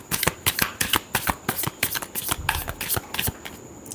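Tarot cards are shuffled by hand up close in quick riffling bursts, a rapid run of crisp flicks and slaps over about four seconds, with no talking.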